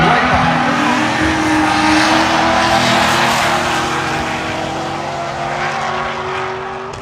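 A Corvette drifting on a track roars steadily nearby, the engine holding a sustained howl while tires squeal and hiss beneath it, fading slightly toward the end.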